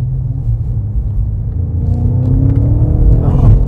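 A 2024 BMW M5 pulls hard on a winding road, heard from inside as a deep, heavy engine rumble that swells steadily louder while the pitch climbs, with no talking over it.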